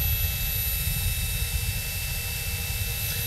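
A FlySky-controlled RC motor spins up on a test stand with a steady, high whine and a low rumbling drone that hold at an even, loud level throughout, with no voices.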